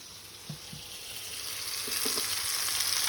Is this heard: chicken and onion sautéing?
yes